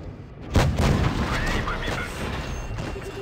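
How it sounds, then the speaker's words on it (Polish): A premium gold shell ricochets off an IS tank in World of Tanks Blitz: one sharp, loud impact boom followed by a rumbling tail under game noise. "odbił się od nas Golda od razu"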